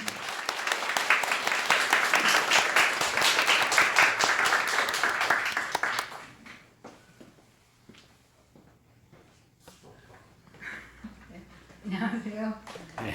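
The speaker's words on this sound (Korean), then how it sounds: "박수로 환영하도록 하겠습니다" A church congregation applauds loudly for several seconds during a Sunday service, then the clapping fades into quiet with a few small sounds and a voice beginning.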